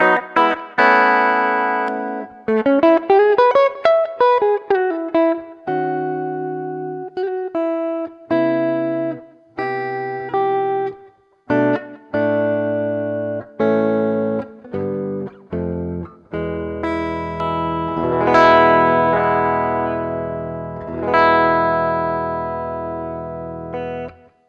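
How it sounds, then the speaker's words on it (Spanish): Overdriven electric guitar through a UAD Enigmatic '82 Overdrive amp emulation with slap delay and plate reverb, playing loud, sustained chords and quick note runs with short echoes and a lingering reverb tail, no voices. "Ahora escuchan que le puse algo de slap y reverb plate"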